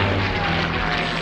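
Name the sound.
P-51 propeller aircraft engine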